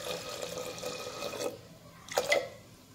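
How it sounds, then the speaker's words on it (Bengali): Hot water poured from a mug into boiled lentils for dal, a soft watery splash and trickle that fades, then a brief louder pour near the end, close and alone. "আমি আধা মগ দিব গরম জল।"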